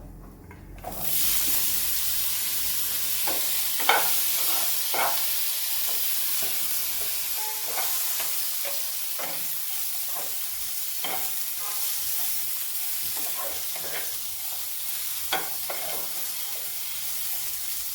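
Steady sizzling of potatoes stir-frying in a pan, with repeated scraping and clinking as they are stirred, continuing for the whole stretch.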